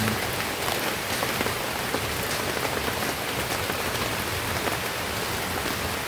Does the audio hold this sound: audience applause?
no